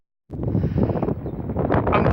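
Wind outdoors at Elland Rugby League Football Club, a loud, steady rumble battering the microphone that starts suddenly and continues without a break.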